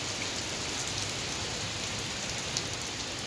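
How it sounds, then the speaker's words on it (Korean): Steady rain shower falling around a lakeside running path in early morning, an even, dense hiss of drops close by with no voices, constant throughout. "자, 그 빗방울 이쪽까지 날리는데요."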